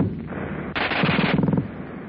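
A German WWII machine gun fires a fast, continuous burst, a rapid rattling roar in restored 1945 footage, loud, rough and uninterrupted for a moment before tailing off.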